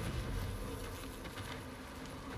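Buzzing bee swarm released by an arrow in the Far Cry Primal game, a dense continuous drone that stays loud and close throughout.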